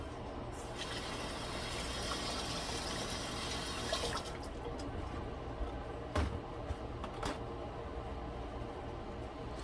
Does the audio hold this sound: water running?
yes